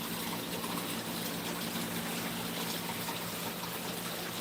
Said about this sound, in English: we definitely got water going in here now.